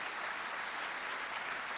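An audience at a French business awards ceremony applauds the trophy winners, a steady, dense wash of many hands clapping close and continuous throughout, with no voices over it.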